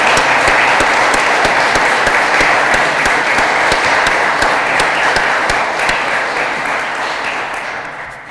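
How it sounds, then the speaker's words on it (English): Loud, sustained applause fills the room at a police ceremony, many hands clapping together in a continuous roar with some sharp individual claps standing out, fading slightly near the end. "How about a big round of applause for everybody?"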